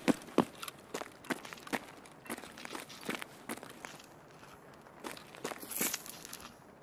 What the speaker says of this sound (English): I swear I heard the footstep.